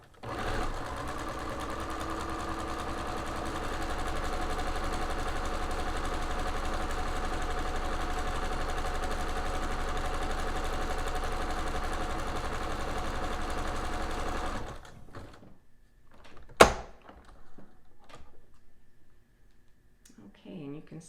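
A sewing machine stitching a tiny French seam runs in a steady, fast mechanical whir for about fifteen seconds, then stops, followed by a single sharp click and quiet handling noise.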